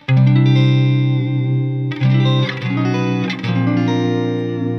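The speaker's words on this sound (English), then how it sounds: "But with a mu major chord, it sounds like this." A mu major chord, sustained and rich with an effects-processed, chorused tone, struck loud and clear, then restruck several times.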